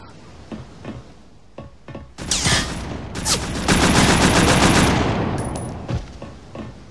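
Gunfire in Scarface: The World Is Yours on PS2: a few scattered single shots give way to sustained rapid automatic bursts that stay loud, then taper into a final shot or two.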